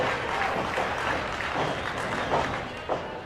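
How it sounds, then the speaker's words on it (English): A crowd at an indie pro wrestling event at Upstate Pro Wrestling roars in a steady, dense wash of cheering and scattered clapping, with a couple of brief louder swells near the end. "the crowd's into it already"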